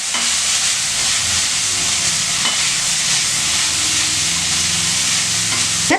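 Carrot and beans stir-fry sizzling loudly in a pan after a sprinkle of water, a dense steady hiss and crackle of frying that runs unbroken throughout with no voices.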